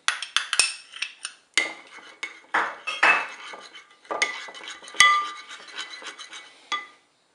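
Mustard stirred into tomato purée in a pot, heard as a string of close, irregular clinks and scrapes of a spoon against the pot, with short pauses between bursts.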